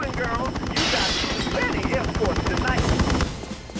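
Rapid bursts of weapon fire rattle continuously in a Tomb Raider game level, loud and dense over game sounds, with a voice talking underneath.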